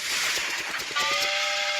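A train arrives with a bright steam-style whistle sounding over the rumble of the wagons. The whistle cuts in partway through and holds to the end, loud and close, with no voices over it.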